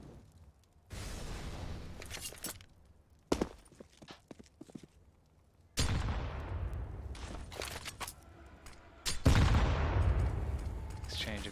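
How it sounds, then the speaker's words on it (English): Grenades explode in a competitive Counter-Strike match on the Train map, two loud blasts several seconds apart with long rumbling decays, mixed with scattered gunshots, footsteps and a commentator talking. "Exchange of grenades."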